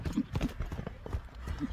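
Horse hooves clip-clopping in a short run of muffled, close steps at a walking pace, fairly faint, with a faint voice-like sound in the background.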